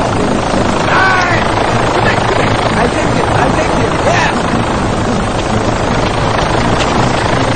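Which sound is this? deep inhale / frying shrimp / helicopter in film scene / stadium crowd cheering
helicopter in film scene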